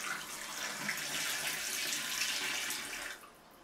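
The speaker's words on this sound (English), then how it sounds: "Pour your developer down the drain." Used film developer is poured down a sink drain in a steady hissing stream of liquid that runs continuously and then stops abruptly near the end.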